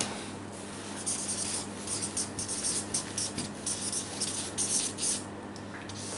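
A pen scratching across paper as currency names are written by hand, a steady, close rubbing texture over a constant low hum, with no talk.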